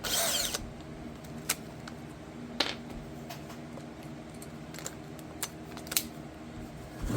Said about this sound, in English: I'm going to take my smaller drill